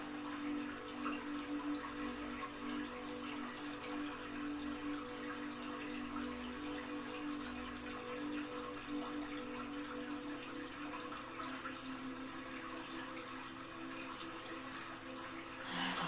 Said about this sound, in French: Lentement, vous sortez de dessous de la cascade.